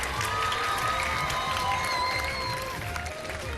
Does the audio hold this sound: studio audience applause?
yes